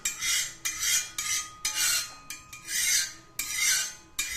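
Oil is spread around adai in a pan with a metal utensil, making repeated scraping strokes in a steady back-and-forth rhythm, close and fairly soft.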